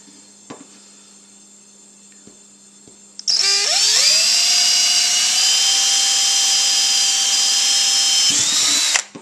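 A power drill bores a hole while building a hop spider, spinning up abruptly to a loud, steady high-pitched whine that runs about five seconds, then cuts off and winds down.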